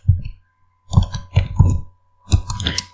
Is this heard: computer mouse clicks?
yes